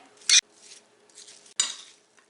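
A spoon clinks sharply against a mug while mixing eggless apple mug cake ingredients, then scrapes and stirs; a second clink follows before more soft scraping.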